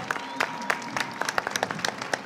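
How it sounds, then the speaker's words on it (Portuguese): Audience applause for a group of standing agents at a Minas Gerais digital programs panel, dense uneven clapping with sharp individual claps popping out, fairly close, with no talk over it. "uma salva de palmas para esses guerreiros"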